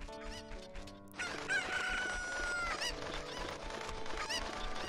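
Chickens in Zelda: Ocarina of Time cluck and a rooster crows in a long cock-a-doodle-doo, loud and busy over game background music.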